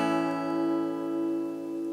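Guitar chord strummed on five strings with the top string muted, a single sustained chord ringing steadily and close with no talk.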